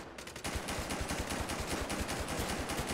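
Rapid automatic gunfire in GTA V, a loud, continuous stream of evenly spaced shots rattling without pause, the bursts dense and close.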